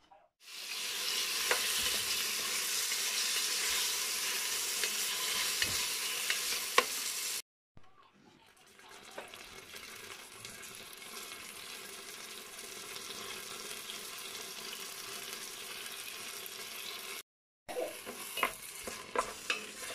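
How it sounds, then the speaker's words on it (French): A tomato and pasta soup being stirred in a pot makes a steady liquid swishing and sizzling close up, broken by two brief gaps of silence, with no talking. "Voilà, je mélange bien tout."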